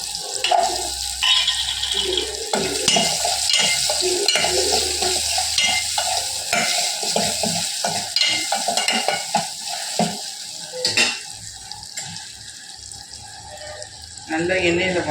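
Five sliced onion rounds and garlic sauté in oil, with a loud continuous sizzle and frequent close scraping stirs against the pan while someone talks over it.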